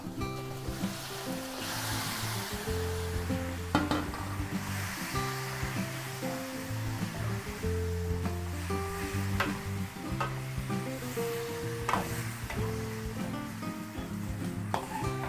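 Marinated adobo meat cooking in a pan, stirred with steady loud sizzling and frying hiss, with scraping utensil clacks and stirring knocks at irregular intervals throughout.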